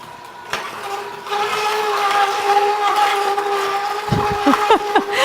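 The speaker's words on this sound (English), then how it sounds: "we're going to bring that beet over to the juicer and just pop it in" A motorized juicer whirs steadily with a high mechanical whine, grinding and crunching as beetroot and ginger are pushed through, growing louder partway in.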